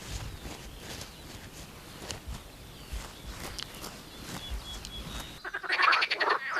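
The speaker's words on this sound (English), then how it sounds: "This noisy gathering of marsh frogs is an all-boys choir." A dense, noisy chorus of marsh frogs croaking continuously at close range in West Siberia, with a sharper burst of rattling calls near the end.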